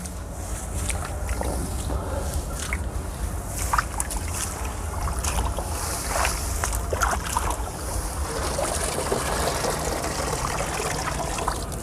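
Nesting grass being washed and turned over in water, soft sloshing and trickling with occasional splashes, close but fairly quiet and steady throughout.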